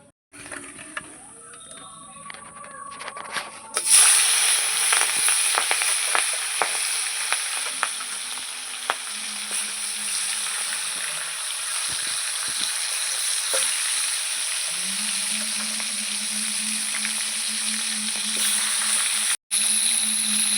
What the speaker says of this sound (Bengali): মাছের মাথাগুলো আমি লাল লাল করে ভেজে নেব